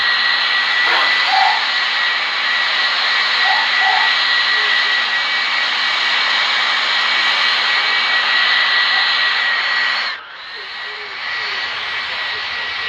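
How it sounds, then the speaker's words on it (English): In a Roblox flight simulator game, an airplane comes in to land with a loud, steady engine drone throughout, then a sudden drop in level near the end as the engine note shifts. "that landing was probably way worse than my 727 landing when I first made a video of this game."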